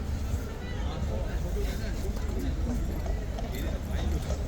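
Horse hooves clip-clop at Horse Guards in London, a steady rhythm of hoof strikes close by, set against a busy outdoor crowd murmur and constant street noise.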